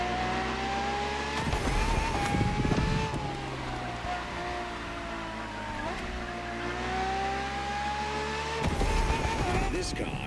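Ferrari FXX K supercar engine in The Crew Motorfest, a steady high-pitched rising and falling whine with gear-change dips, continuous and fairly loud, with talk over it.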